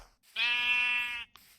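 A single sheep in Minecraft gives one clear, drawn-out bleat, steady and moderately loud, followed by a short faint tail, with no talking.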